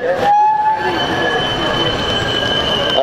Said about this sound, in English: You can hear the trams in there too.